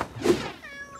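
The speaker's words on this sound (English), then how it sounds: "Kittens." Cartoon kittens give a single short meow, soft and close, with a faint tonal ring trailing after it.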